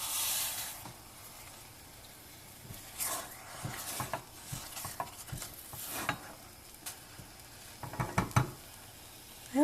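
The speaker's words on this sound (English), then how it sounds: "So now I'm going to mix this a bit with the spatula." A thickened mixed berry tart filling cooks in a pan while a heat-resistant spatula stirs it, soft bubbling hiss punctuated by irregular scraping and tapping strokes, growing busier toward the end.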